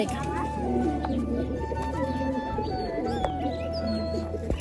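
Soft cooing from a green-necked pigeon comes through amid ongoing talk and background clatter, the cooing low and intermittent.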